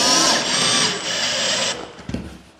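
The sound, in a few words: drill setting drywall screws into plasterboard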